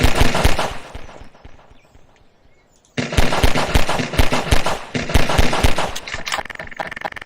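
Rapid gunshots in the Garry's Mod video game, fired in quick loud bursts with a short pause before another run of sharp shots, close and dry with no talk.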